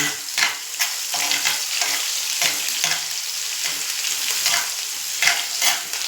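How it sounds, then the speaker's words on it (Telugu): Sliced onion sizzling in hot oil in a home cooking pan, a steady crackling fry with periodic stirring scrapes rising and falling, close and fairly quiet, no talk. "ఒట్టి ఉల్లిపాయ వేస్తున్నాను"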